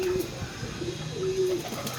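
A pigeon coos in a few soft, low rounded calls, with one longer drawn-out coo near the end, over a steady background hum; no one talks.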